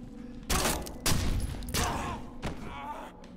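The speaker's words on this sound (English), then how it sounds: "I knew there was a second person with a shotgun because I was getting shot" Several loud, close shotgun blasts in Condemned: Criminal Origins, four or five booming reports spaced about half a second to a second apart, each with a short rumbling decay.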